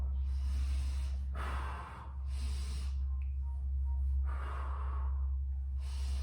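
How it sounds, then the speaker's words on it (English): Slow, audible breaths during a guided breathing exercise, alternating long airy exhales and inhales, close and steady over a low hum with no talk. "Exhale, inhale. Exhale, inhale."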